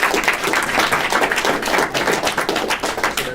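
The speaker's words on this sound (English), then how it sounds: "Big round of applause, guys." Applause from an audience at a meeting after a presentation, with dense, steady clapping of many hands throughout and no voices standing out.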